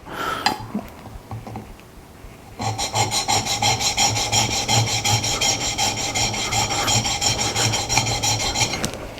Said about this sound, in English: Now I can feel the varnish actually coming off on this as I'm sharpening